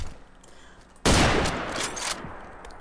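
Gunfire from an XM2076 rifle in the video game Fallout 4 cracks in with a sudden loud burst, followed by a sustained rapid volley that fades back to a quieter background.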